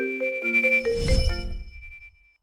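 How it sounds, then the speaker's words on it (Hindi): A phone ringtone plays a quick, bright melodic chime of stepped electronic tones that rise and fall. It ends with a low thump and then a short fading ring-out. "तुम्हारा फोन अभी बजेगा।"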